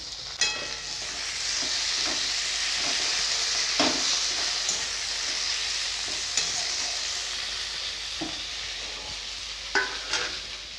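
Chopped onions and tomato frying in a pan for a home-cooked fish curry, a steady moderate sizzle and hiss with occasional clinks and scrapes of a spatula stirring; no voices.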